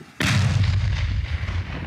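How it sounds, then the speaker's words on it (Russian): A single loud, deep explosion of an unexploded shell in a ploughed field booms suddenly and then rumbles away, its roar lingering for a second or more. "Взрыв посреди распаханного поля и очередной не разорвавшийся снаряд уже не опасен."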